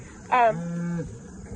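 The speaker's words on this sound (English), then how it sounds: "if you guys can hear me over the cows telling me that they are ready" A farm cow, among cattle waiting near alfalfa fields, gives a single loud, close moo: a sharp rising onset that settles into a sustained lower drone before fading.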